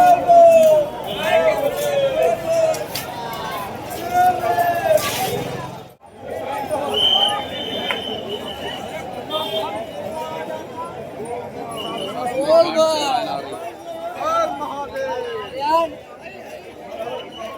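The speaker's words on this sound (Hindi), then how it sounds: "आप लाइन देख सकते हैं, भीड़ देख सकते हैं।" Crowd of pilgrims queuing at Kashi Vishwanath temple in Varanasi, a steady dense hubbub of chatter and shuffling with scattered calls, close and continuous, with a person talking over it.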